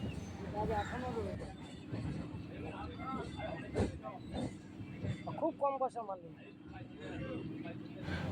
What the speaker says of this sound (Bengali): এখন ট্রেন ঢুকছে ব্রেজ ব্রিজ